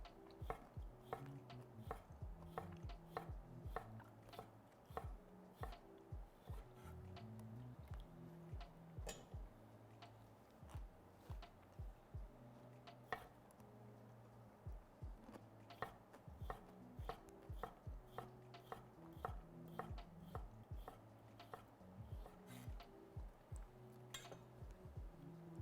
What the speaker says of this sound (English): So I'm just gonna slice these into nice little rounds.